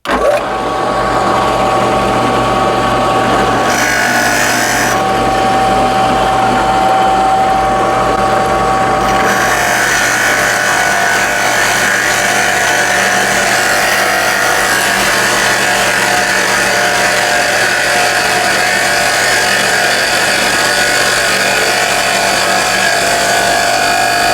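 Vevor 12-inch bench top drill press boring into wood with a Forstner bit, a steady loud motor whine with cutting noise running continuously, alone without talk.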